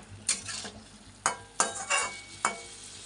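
A spatula stirs a salted fish roe fritter mixture in a hot pan, giving five distinct scraping strokes over a low sizzle, each stroke rising and fading in an uneven rhythm.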